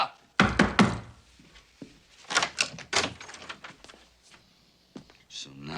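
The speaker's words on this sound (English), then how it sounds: "So now you're locking your door?" Heavy thuds against a wooden door as it is locked and knocked on, with a loud burst of knocks early on and further knocks and rattles, under voices calling and talking.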